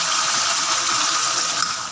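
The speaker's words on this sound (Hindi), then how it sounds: "अब हम इसमें 1/4 कप के करीब पानी डालेंगे" Water poured into a beef masala karahi as it cooks, a steady close hiss of liquid that runs unbroken for about two seconds.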